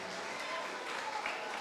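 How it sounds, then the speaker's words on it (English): Brief, fairly faint clapping from a church audience after a prayer for a pastor, a steady wash of hands under the room's ambience. "Let's give a round of applause for Pastor Kojo."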